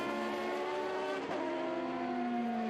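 A McLaren Formula One race car driven by Mario Andretti at a vintage racing event, its engine screaming at a sustained high pitch, dipping briefly midway as if shifting, then climbing again, loud and close.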